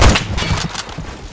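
Rapid gunfire from Roblox Phantom Forces, a burst of close, loud shots packed into a little over a second, with no voices over it.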